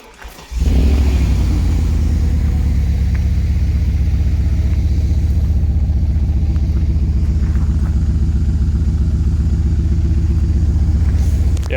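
A BMW E38 740i V8 on cold start, its exhaust drilled with two small holes, fires up and settles into a loud, rough, lumpy idle, apparently not running on all eight cylinders, close to the microphone with no talk.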